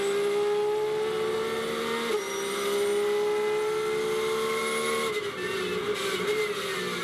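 Onboard sound from a Porsche GT race car in free practice at Silverstone, a loud, steady high-pitched engine drone with a couple of gear shifts breaking the pitch, no talking.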